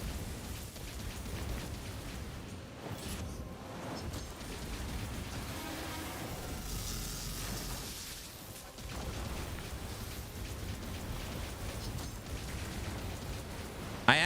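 Rain during the prologue of the video game Dragonkin The Banished: a steady, dense hiss of rainfall on surfaces that continues throughout, with a few brief dips and faint low rumbles.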